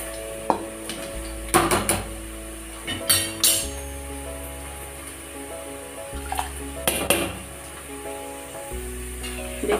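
Rice goes into a pot of boiling water while chicken biryani is cooked, with a steady sizzle and hum underneath and several sharp metallic clinks of utensils against the pot.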